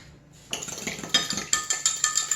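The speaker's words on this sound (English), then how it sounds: "I'm gonna whisk it with a fork" A fork beats briskly against a bowl while salad dressing is whisked, giving a quick rhythmic run of close metallic clinks and scrapes, with no talking.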